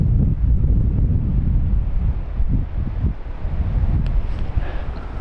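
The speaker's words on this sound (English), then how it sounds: "we've had these wind gusts" Strong wind gusts buffet the microphone on a building site before rain, a loud, continuous low rumble that swells and dips without any talking.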